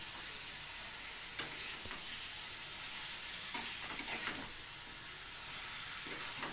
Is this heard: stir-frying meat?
yes